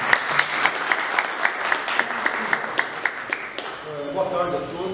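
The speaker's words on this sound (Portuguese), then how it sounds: "Uma salva de palmas para o nosso palestrante." A crowd at a lecture claps steadily for a few seconds for the speaker before a voice begins speaking as the applause fades.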